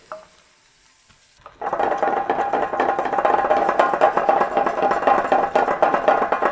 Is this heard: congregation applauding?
no